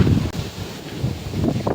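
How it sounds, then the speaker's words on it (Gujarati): Strong wind gusts across an open farm field with cotton plants after rain, buffeting the microphone in a continuous low rumble with rustling, no talking. "અત્યારે તમે જો ફૂલ પવન છે"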